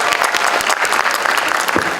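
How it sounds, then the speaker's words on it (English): An audience at a campus festival gives a big round of applause to welcome a guest, loud, dense clapping that runs continuously with a few sharper claps standing out. "Please welcome ma'am with a huge round of applause"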